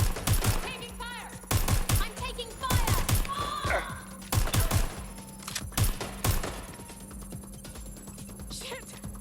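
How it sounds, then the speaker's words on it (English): Bursts of gunfire in the video game Watch Dogs: Legion, several sharp, loud volleys of rapid shots with short gaps between them, mixed with a steady hum and faint chirping effects. "Taking fire! I'm taking fire!"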